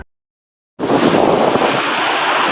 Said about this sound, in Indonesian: Ombaknya menggulung. Tuh.